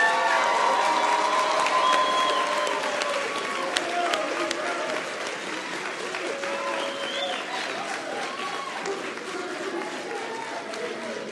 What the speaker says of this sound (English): please help me in giving one more round of applause for these outstanding students.